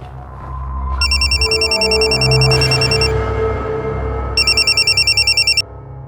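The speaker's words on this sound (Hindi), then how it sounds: "किसका फोन है?" A telephone rings loudly in two bursts of rapid electronic trilling, heard over a low background bed with a pause between the rings.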